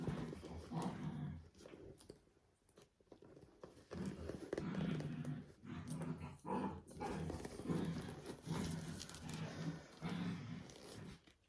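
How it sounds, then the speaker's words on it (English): Several dogs play at night right before bed, and their low growls and rough scuffling rise and fall in bursts over about ten seconds, close by and fairly quiet. "it's nighttime playtime right before bed, so the dogs have all this energy"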